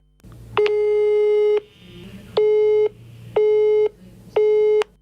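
Four long tones of a telephone busy signal ring out for an unanswered call, loud and evenly spaced with short gaps between them, with no voices.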